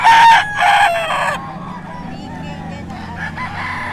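A gamefowl rooster crows loudly nearby at a gamefowl auction in Bocaue, Philippines, one long drawn-out call, followed by quieter background clucking and murmuring.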